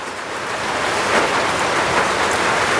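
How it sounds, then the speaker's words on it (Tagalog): Nonstop rain falls during a storm, a loud, broad, even rush of water pounding on surfaces that swells slightly and holds steady throughout with no talking. "Wala nang tigil ang ulan kahapon pa."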